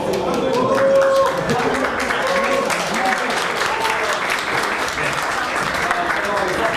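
Steady applause from an audience at a startup weekend results ceremony, dense clapping running throughout at full strength with an announcer's voice faintly mixed in.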